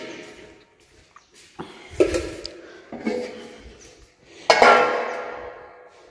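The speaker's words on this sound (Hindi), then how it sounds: "मैं फटाफट बर्तन धो लाँ" Dishes, pots and utensils are washed by hand, giving several separate clanks and clatters of metal and crockery with short quiet gaps between them, close and fairly loud.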